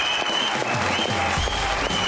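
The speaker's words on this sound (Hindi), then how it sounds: "Put your hands together for Shahzad" Studio audience applauding a film director and actor arriving as a guest on a comedy talk show, dense continuous clapping filling the whole stretch, loud and close, with a few faint voices mixed in.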